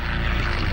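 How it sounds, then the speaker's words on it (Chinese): A steady, loud drone of a large twin-engine Japanese propeller aircraft fills the brief moment, a continuous engine rumble with no other sounds. "飞机又向南去了"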